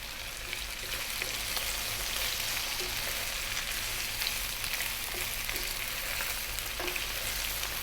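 Mushrooms frying in a pan give a continuous loud, dense sizzle and crackle that holds steady from start to finish, with no talking over it.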